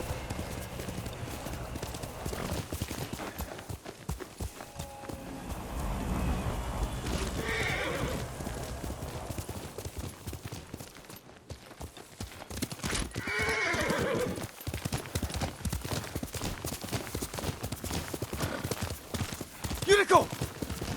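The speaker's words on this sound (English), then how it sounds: "Yuriko's horse. She can't be far." A horse in a feudal Japan video game clops along with steady hoofbeats and whinnies, while a voice talks over part of it and light rain falls in the background.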